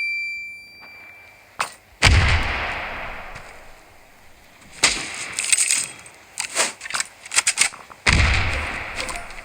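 Gunfire in the Standoff 2 video game, several loud sharp shots and short bursts in close succession, with rapid clustered firing in the middle and a final heavy blast, plus game effect tones.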